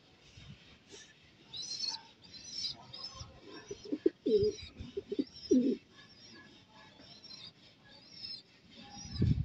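Pigeons at a racing pigeon loft coo softly in repeated low bursts, with scattered chirps and faint rustling between them, fairly quiet and close.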